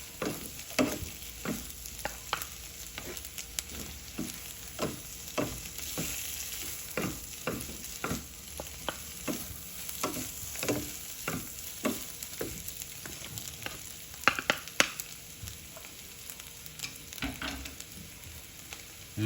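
Carrot eggs fry in a pan over a moderate flame, a steady soft sizzle broken by regular scraping stirs of a utensil against the pan.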